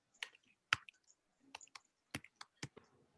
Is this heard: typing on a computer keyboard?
yes